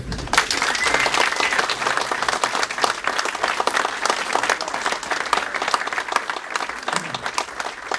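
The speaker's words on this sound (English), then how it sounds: "Let's have one more round of applause for the Bark River staff." A crowd at the Bark River knife-making Grind In event gives the staff a lively round of applause, many hands clapping steadily and close for about eight seconds, with a few scattered voices mixed in.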